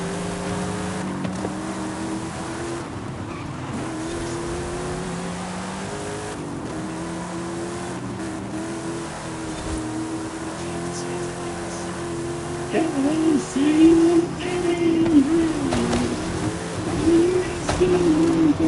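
A McLaren races in the Forza Horizon 5 video game, its engine droning steadily and then revving harder with rising pitch toward the end, while a person talks over it.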